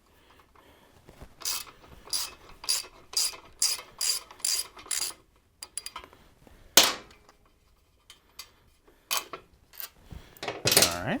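Ratchet wrench backing bolts out of the rear fender of a Harley-Davidson Sportster, about a dozen quick clicking bursts in uneven spurts with short pauses between them, close and clear, with a brief spoken remark.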